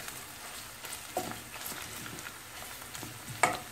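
Minced meat frying with pepper paste and tomato paste in a pan, a soft steady sizzle broken by occasional stirring scrapes and taps, close and without talk.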